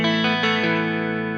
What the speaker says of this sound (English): There's that phaser, that chorus